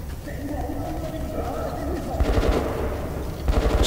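Gunfire in the video game Metro: Last Light, rattling bursts of automatic shots that swell toward the end while a voice talks over the fighting.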